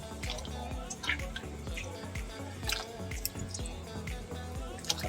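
A pot of native chicken broth boils hard, bubbling and popping with a steady, busy gurgle up close, with wet drips and splashes throughout.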